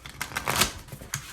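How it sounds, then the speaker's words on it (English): Tarot cards being shuffled by hand, a quick run of papery riffles and flicks close up, with two brief louder bursts and no talking. "Let's shuffle one last time."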